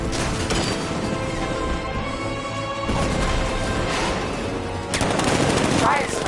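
Tank riot suppressor in the Batman Arkham Knight video game, delivering sustained rapid automatic gunfire with sharp crashing bursts, loud and continuous across the clip.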